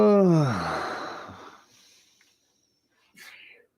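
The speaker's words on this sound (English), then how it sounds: "Bless you." A single sharp sneeze from a person indoors, arriving late and brief after a trailing voice fades into near silence.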